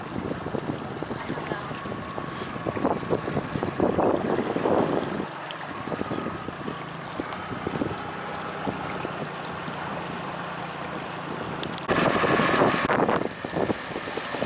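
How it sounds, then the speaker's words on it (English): A boat motors home across open water, with a steady engine drone under heavy buffeting wind noise on the microphone and water splashing, and a louder gust near the end. "There's Captain Patty driving us home"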